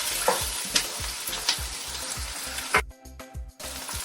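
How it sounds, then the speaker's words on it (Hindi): Onions frying and browning in a pot, a close, bright sizzle with regular rhythmic stirring strokes and clinks, fading to quieter clatter near the end. "दो मिनट इसे फ्राई कर लेंगे। थोड़ा सा और इसे मैं ब्राउन करूंगी,"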